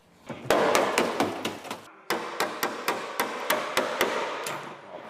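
A hammer repeatedly strikes the bodywork of a Vauxhall Astra GTE. Loud, close, evenly spaced metallic blows, around fifteen in all, run with a brief pause near the middle.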